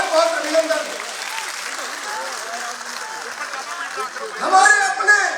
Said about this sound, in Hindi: जोरदार तालियों के साथ बहुत बहुत अभिनंदन